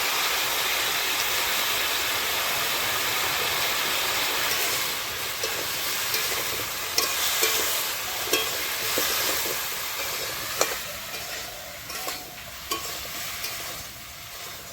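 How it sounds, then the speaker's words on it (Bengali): Cumin, green chili and ginger pastes fry together in a pan with a steady, close sizzle, broken by scattered scrapes and taps as the mixture is stirred. "এখানে আছে জিরে বাটা, কাঁচা লঙ্কা বাটা আর আদা বাটা একসঙ্গে দিয়ে ভেজে নেব।"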